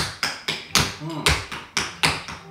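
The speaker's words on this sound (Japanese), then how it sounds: "スタンプでも結構いい音しますね" Tap shoes fitted with a newly applied sole treatment stamp on a floor in a steady sequence of sharp, close, fairly loud strikes, about eight hits spaced evenly, each with a short ring, with faint voices murmuring briefly in the middle.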